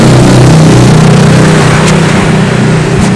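A used Honda Vario motor scooter engine revs loud and close, a steady droning roar that holds for a few seconds.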